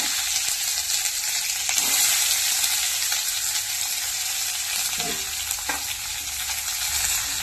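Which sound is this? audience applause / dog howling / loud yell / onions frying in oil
onions frying in oil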